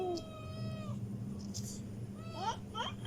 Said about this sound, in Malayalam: പൂച്ച പോവുണ്ട്.